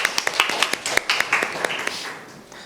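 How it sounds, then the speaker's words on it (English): A few audience members at a panel on digital wallets clap for the speaker, producing a short, crisp run of separate claps that fades within three seconds. "Please give our speaker a big round of applause."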